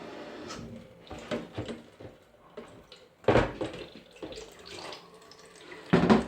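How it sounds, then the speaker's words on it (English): Tap water runs into a Brita jug fitted with a Maxtra filter cartridge. The rushing, splashing flow is close and uneven, with louder surges and a few knocks of the jug against the sink. "Then you need to fill this twice with water at the tap,"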